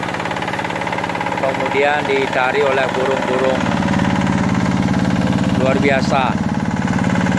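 A tractor working a rice paddy field in Belayu, Mengwi, Bali, its engine chugging steadily and loudly throughout while someone talks over it.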